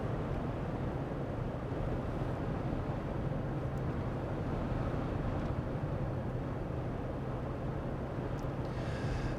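A 1999 Chevrolet Tahoe cruises at 60 miles per hour, giving a steady, even broadband drone of road and engine noise inside the cabin with no breaks.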